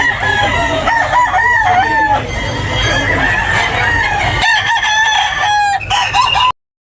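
A rooster at a chicken sale crows loudly and close several times, with other fowl clucking and crowing around it in a busy, noisy setting.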